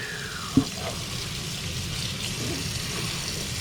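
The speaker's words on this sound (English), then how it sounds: "Turn this water off real quick." Water runs steadily from a sink faucet while sand perch is being cleaned, a continuous close rushing hiss with one brief knock early on.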